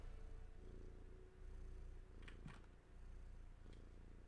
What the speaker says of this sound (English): Oh, God, you can hear the purr just like in my right ear.